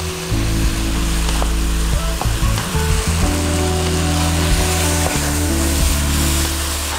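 Eggs frying with tomato sauce in a pan make a loud, close, steady sizzle, with scattered scraping clicks from stirring throughout.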